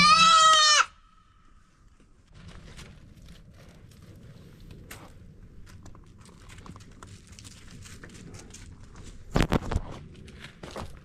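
Young goat kids bleat loudly and close at the start in a single harmonic cry, followed by quiet barnyard rustling and footsteps, with a brief sharp burst near the end.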